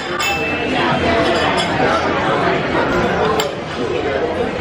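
Glasses clink together in a dinner toast at an Italian restaurant and marketplace in Los Angeles, a few light chinks within steady crowd chatter and clatter of dishes.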